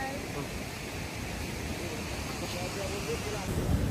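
Mobir waterfall on the North Annapurna Base Camp trek, a steady broadband roar of falling water filling the whole stretch, with wind buffeting the microphone toward the end.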